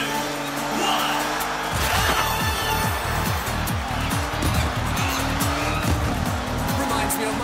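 Race cars in the video game Hotshot Racing roar off the line at the start of a jungle Temple Drive race, engines revving hard with tire squeal and skids, loud and continuous after a short countdown lull, with an announcer voice over it.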